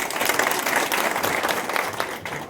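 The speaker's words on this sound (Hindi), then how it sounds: "सबके लिए जोरदार ताली हो जाए।" Loud applause from a seminar audience, dense continuous clapping that holds steady for a couple of seconds before easing slightly at the end.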